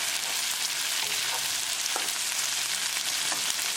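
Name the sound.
okra and sardines frying on medium gas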